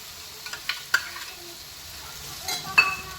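Tomato paste stirred into sizzling onion masala for chole chana, a quiet steady sizzle punctuated by several sharp spoon scrapes and clinks against the pan.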